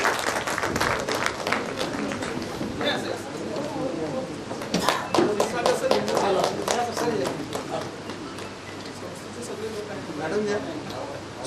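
An audience at a university workshop in Solapur applauds as the principal receives an award. Scattered clapping rises and falls across the whole stretch, mixed with voices talking.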